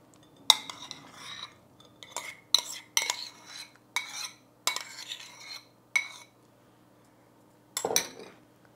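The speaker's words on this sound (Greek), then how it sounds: "και ανακατεύουμε" A spoon stirs yogurt into a mixture of oil in a bowl for a vegetable soufflé, clinking sharply against the sides in about ten separate bursts spread across the clip, each followed by quiet.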